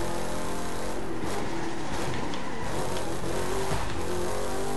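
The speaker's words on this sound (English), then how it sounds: "I am totally driving the wrong way down the street" A car in The Crew 2 racing video game is driven the wrong way down a Detroit city street. The steady engine drone carries throughout, with tire and road noise and a faint squeal.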